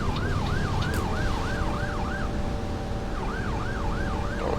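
Emergency vehicle sirens behind a bus in the OMSI 2 bus simulator game, a wailing two-tone siren rising and falling repeatedly over the bus engine's steady rumble, fading briefly then returning.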